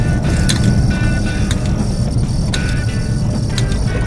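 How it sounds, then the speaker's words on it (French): Citroën 2CV flat-twin two-cylinder engine idling steadily, a low continuous purr heard up close without break, with faint higher ticking and clicks across the stretch and no talk over it. "On entend bien ces 2 petits cylindres à plat là, qui ronronnent là"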